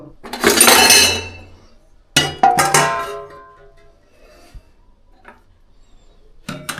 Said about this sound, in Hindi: इन बर्तनों को रख देता हूँ ऊपर शेल्फ के ऊपर